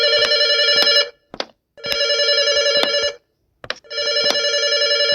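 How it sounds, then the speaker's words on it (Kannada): A telephone bell rings loud and close in three long bursts of rapid trilling, each about a second long, separated by short pauses with faint clicks between them, and no voices. "ಎಲ್ಲಿಂದ ಹೊಂಟಂತ ಫೋನ್?"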